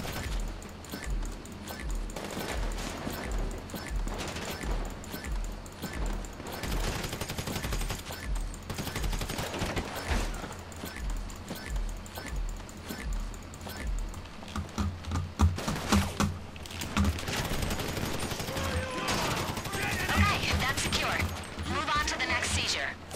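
Gunfire rattles in GTA 5 Online, rapid bursts mixed with keyboard clatter and game noise, while a player talks over the action.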